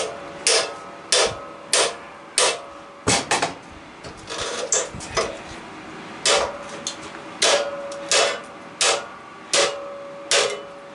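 A hammer strikes metal over and over while an air-conditioner A-frame coil is scrapped for copper, brass and aluminum, sharp ringing blows landing in uneven bursts with short pauses between them.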